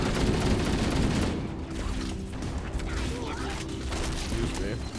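Turret fire roars steadily in a Halo video game battle, a dense, continuous rattle of gunfire and explosions with voices talking over it throughout.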